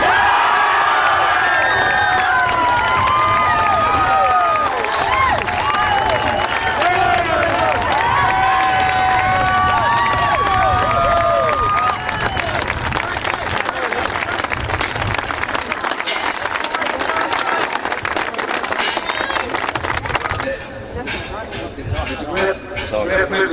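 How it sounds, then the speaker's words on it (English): Sustained crowd applause and cheering greet an award winner at a Longford Senior Football Championship Final presentation, loud and continuous before thinning out near the end. "Will you please give a nice round of applause to Tommy Sheridan?"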